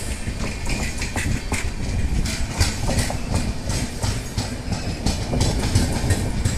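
Kanyakumari to KSR Bengaluru Express train passing close by, a steady loud rumble with continuous rhythmic clickety-clack of wheels over rail joints throughout.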